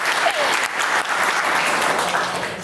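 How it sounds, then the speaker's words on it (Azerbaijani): Audience at a stand-up comedy show in a youth centre breaks into steady, dense applause, loud and sustained throughout with no voices on top. "Alqış lazımdır"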